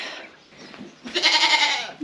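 A goat on a farm gives a loud, harmonic bleat lasting most of a second, close by, after a quieter stretch of faint farmyard ambience.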